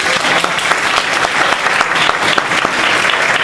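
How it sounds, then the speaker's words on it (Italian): Loud, dense applause from a theatre audience welcoming a presenter at a sketch show, continuous close clapping with sharper individual claps poking through. "gli facciamo un applauso"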